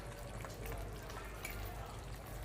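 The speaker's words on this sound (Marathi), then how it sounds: "आता आपण त्यामध्ये भाजलेल्या शेंगदाण्याचा कूट 1 चमचा टाकूया आणि मिक्स करून घेऊया" Roasted peanut powder being stirred into a spicy village-style guar bean curry in a hot pan, giving a continuous close sizzle with soft scraping stir sounds throughout.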